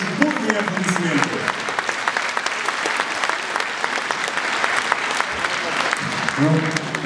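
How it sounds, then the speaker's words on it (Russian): A concert audience at a Cossack song and dance ensemble performance claps steadily for several seconds, a dense close wash of applause, with a voice speaking over the opening and again near the end. "Под ваши бурные аплодисменты."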